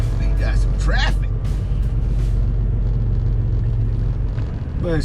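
Road traffic in a Texas city heard from inside a moving pickup truck, a steady loud engine and road rumble throughout with brief higher squeals over it; someone talks during it.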